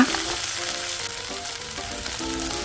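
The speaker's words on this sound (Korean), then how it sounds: "이렇게 타지 않도록 앞뒤로 잘 구워갖고 하시면 되겠어요" Seasoned deodeok root sizzles and crackles steadily as it pan-fries in a little oil, heard close up and alone without talk.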